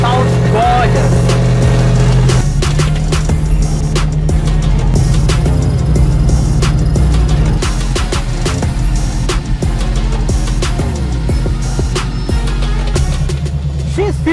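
A 1972 Dodge Charger's engine runs steadily at idle, a loud, close, continuous low rumble with a throbbing exhaust note throughout, voices faintly present.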